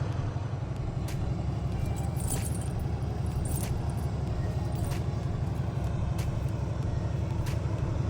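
Metal tire chains jangle and clink steadily as they are handled and spread across a truck tire outdoors, a continuous close rattle over a low rumble of engine or road noise, with no talking.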